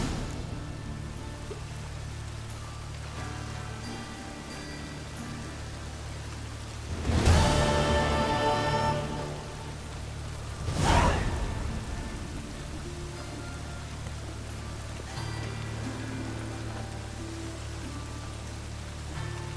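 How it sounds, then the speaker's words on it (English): Rain in The Witcher 3: Wild Hunt falls as a steady, even hiss under a low rumble, broken by two louder swells that may be distant thunder. "Looks like rain."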